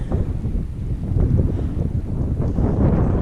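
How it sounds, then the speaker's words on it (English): Strong wind buffets the microphone beside Dick's Lake in the Desolation Wilderness, a loud, constant low rumble that swells and gusts without letting up. "It's really windy up here."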